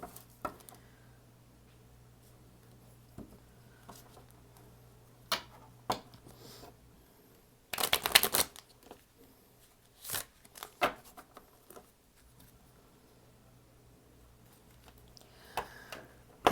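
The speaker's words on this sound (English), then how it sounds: "Finish this shuffle." Tarot cards being shuffled during a zodiac reading, quiet sporadic riffles and taps with one louder burst of shuffling midway, surrounded by near silence.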